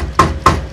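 Two sharp hammer taps strike the seam of a leather jacket during repair, evenly spaced, close and loud, with no speech between them.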